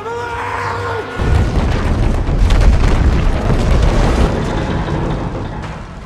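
Bombs detonate on a bridge in an action film, a sudden loud deep boom that swells into a sustained rumbling roar of blast and debris lasting several seconds.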